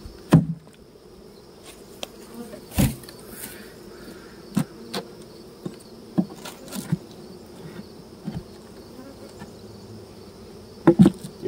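Honey bees buzz around an opened hive on an evening, a faint steady drone with scattered close knocks and taps from hive handling, no talking.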